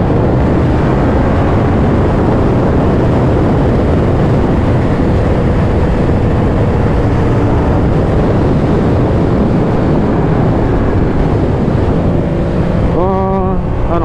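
A Yamaha R7 motorcycle ridden on a race track, captured onboard as a loud, constant roar of wind buffeting under the engine note, with a brief rising engine tone near the end.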